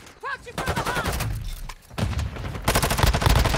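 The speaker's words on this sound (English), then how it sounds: "Let's get a sentry gun out real quick." Rapid bursts of automatic gunfire from a deployed sentry gun in the mobile shooter game Warzone Mobile, loud and dense with rattling volleys growing heavier toward the end, mixed with other game effects.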